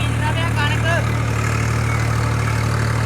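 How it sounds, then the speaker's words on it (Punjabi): A steady low engine drone runs throughout, a tractor sowing wheat in a field nearby, with faint chirps and some background voices. "ਇਹਦਾ ਸਾਹਮਣੇ ਟਰੈਕਟਰ ਚੱਲ ਰਿਹਾ ਉਹ ਕਣਕ ਬੀਜ ਹੋ ਰਹੀ ਆ"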